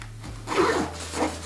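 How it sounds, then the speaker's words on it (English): A zipper on a Beats headphone case is drawn open in two short, close rasping pulls, quiet and crisp. "this might be the zipper"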